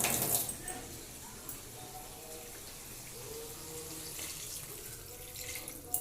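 Water is poured into a cooking pot holding a fish curry soured with dried mango, a soft, steady splashing that is fairly faint, with a voice speaking quietly in the background.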